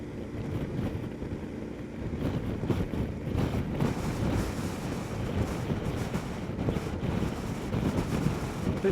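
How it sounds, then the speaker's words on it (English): Gusty wind roars and buffets across the microphone while riding a KTM 1290 Adventure S motorcycle on the road, a loud, constant low rumble that swells with each gust, with no talking. "the wind is certainly grabbing a little bit every now and then with this these gusts"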